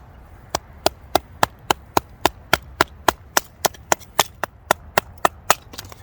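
An Old Timer 6OT Golden Bear folding knife from Schrade chops into wood with about twenty sharp, close strikes at a steady, even rhythm.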